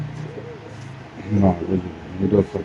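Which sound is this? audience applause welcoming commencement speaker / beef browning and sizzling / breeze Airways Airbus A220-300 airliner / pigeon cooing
pigeon cooing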